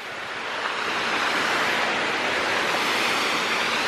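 Strong windstorm gusts roaring steadily outdoors near trees and a road, a loud broadband rush that swells in the first half second and holds constant with no voices.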